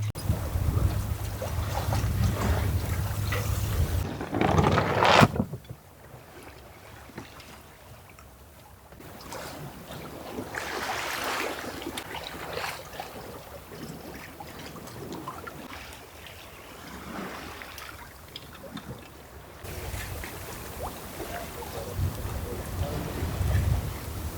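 A sailboat with full sails out crossing a flat calm sea at night, heard as soft rushing water and gusty wind buffeting the microphone, with louder bursts at the start and end and quieter stretches between.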